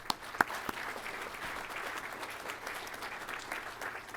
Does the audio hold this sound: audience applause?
yes